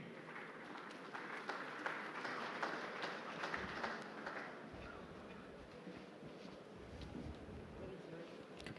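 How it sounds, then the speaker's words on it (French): Conference audience applauding a speaker being welcomed to the stage at a tomato industry event in Morocco, a steady, dense wash of clapping that holds at even strength for the whole stretch, with a faint voice in the background. "J'invite sous vos applaudissements Monsieur Wilco Vandenberg."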